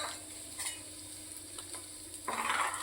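Cumin, a pinch of hing, two dried red chillies, cinnamon, cloves and bay leaf sizzle in hot oil, a steady close frying hiss that jumps louder near the end as more spices hit the pan.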